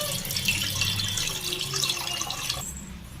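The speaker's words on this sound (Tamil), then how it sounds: "ஃபர்ஸ்ட் அதை தண்ணி விட்டுக்கலாம்" Water pours into an idli steamer pot in a steady, close splashing stream that cuts off shortly before the end.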